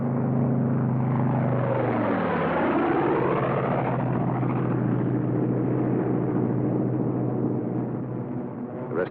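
World War II P-47 Thunderbolt fighter plane peeling off from a loose string formation, a loud continuous propeller-engine roar whose pitch sweeps downward as it passes, then a steady drone that fades slightly.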